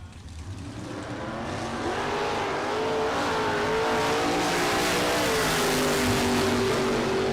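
A 1927 Ford Model T Roadster and a 1969 Camaro launch down a drag strip, engines roaring loud and steady as they accelerate, with rising revs and a dense crowd-and-track wash behind.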